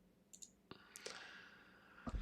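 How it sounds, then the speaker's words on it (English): Keyboard typing during a live stream, with a few sparse, faint clicks and taps close by over a quiet background hum. "As we get some ASMR typing going on."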